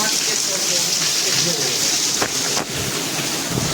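Rain falls heavily and steadily, a dense, loud hiss that fills the whole stretch with only slight dips and no break.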